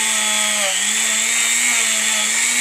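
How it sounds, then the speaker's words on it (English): Rotary tool spinning a wire brush to clean built-up crud from an interior component, a continuous high-pitched motor whine with a brief dip in speed, loud and close with no voices. "take our rotary tool with a wire brush"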